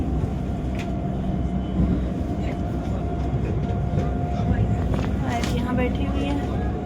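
A metro train rides through Helsinki, giving a steady, loud rumble and rail hum with a faint high whine that runs without a break, while a person talks over it.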